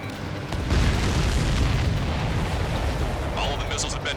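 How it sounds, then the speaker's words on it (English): Missiles are destroyed in the video game Ace Combat 7: a dense, rumbling wash of explosions and booms carries on for several seconds, with a brief radio-style voice near the end. "All of the missiles have been destroyed."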